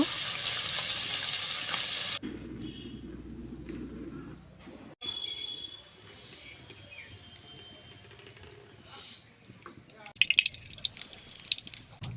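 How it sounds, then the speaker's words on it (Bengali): Sizzling and spattering of bata fish frying in hot oil, steady and close, with clatter of a utensil and some talk over it. "বাটা মাছ ভাজা করছি"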